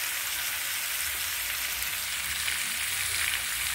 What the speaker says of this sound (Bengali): সব মশলাগুলো দিয়ে 3 মিনিট মতন খুব ভালোভাবে কষিয়ে নেব।